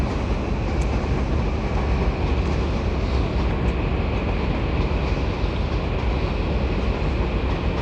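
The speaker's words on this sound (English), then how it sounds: "Arriving now is 802-211 from Newcastle to Liverpool Lime Street." Class 802 unit 802-211 arriving at York station on a Newcastle to Liverpool Lime Street service, a steady, loud, close rumble of the train that fills the whole stretch with no voices.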